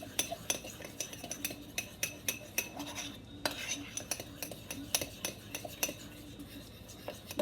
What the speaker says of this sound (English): And you stir stir it that up. Stir it up good so it's dissolved, and set it aside.